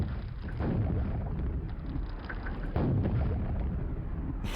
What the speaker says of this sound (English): Says I'm just wildly firing rockets everywhere